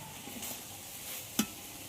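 Okra curry sizzles softly in a pan as it is stirred, with a gentle hiss, a couple of light scrapes and one sharp spoon clink against the pan near the end.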